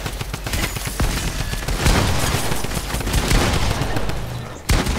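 Shooter video game gunfire, loud and nearly continuous, with rapid automatic bursts layered over one another and a sharp shot cracking out near the end.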